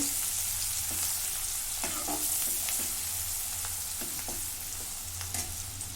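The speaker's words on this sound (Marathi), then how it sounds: "खरडा टाकून घेतला मी हा आपण थोडा भाजून घेतो" Kharda, a coarse chili-garlic paste, roasting in a pan with fried garlic: a continuous close sizzle with scattered scraping stir strokes over a low steady hum.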